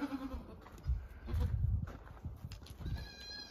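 Goats bleat repeatedly at close range, several short wavering cries spread across the clip over a low rustling farmyard background.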